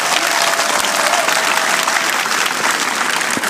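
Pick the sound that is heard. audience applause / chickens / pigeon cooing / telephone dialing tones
audience applause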